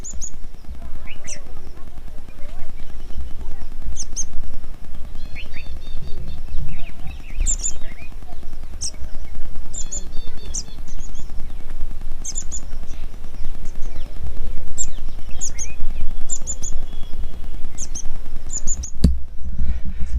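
Sparrows chirp in short, scattered bursts throughout, a little distant, over a constant low rumble of background noise, on a trek at Kadamgiri.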